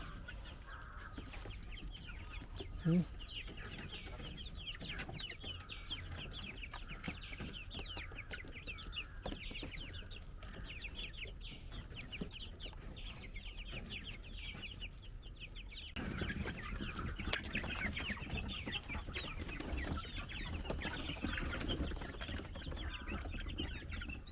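Mother hens cluck in alarm together, a faint, continuous stretch of agitated clucking that grows slightly louder toward the end.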